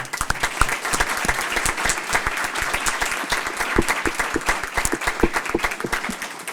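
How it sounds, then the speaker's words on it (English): Clapping at a school board meeting honoring an award recipient, a room of people applauding with distinct, closely miked individual claps in a brisk, irregular rhythm. "So we can clap."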